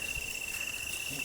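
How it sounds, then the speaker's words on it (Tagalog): Crickets chirp in a small forest as a steady, high, continuous trill that holds evenly throughout at a moderate level, with no voices. "Cricket."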